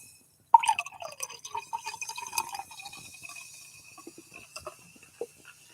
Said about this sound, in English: You know when you're pouring something.